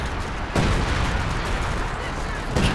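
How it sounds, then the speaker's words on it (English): Major artillery shells land in Company of Heroes 2, with two sharp booming impacts, one early and one near the end, over a continuous rumbling battle background. "Is that major artillery coming in on the center? It is, and it's real major artillery"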